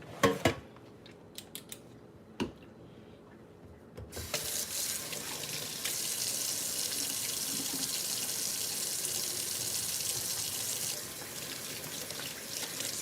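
Tap water runs steadily into a kitchen sink after a few brief clatters, where pork chops were thawing in a bowl of water; a constant close hiss that carries on unbroken to the end.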